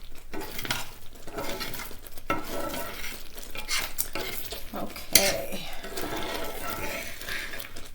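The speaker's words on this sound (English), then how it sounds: "I have not stopped stirring this since I started making it." A spoon stirs thick sausage gravy in a pan, steady scraping and soft bubbling with occasional clinks of utensil on metal, fairly quiet and continuous.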